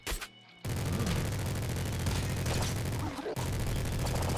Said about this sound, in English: There's a minigun.